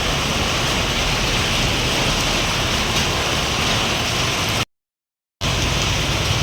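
Heavy rain pours steadily in a dense, unbroken roar, interrupted by a brief moment of silence before resuming just as loud.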